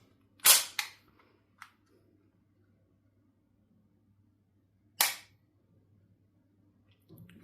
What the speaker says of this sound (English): And now see how little it takes to pull that trigger.